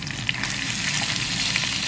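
Small pieces of sliced pork belly frying in a pan while being mixed, a loud, continuous close sizzle with faint stirring scrapes throughout.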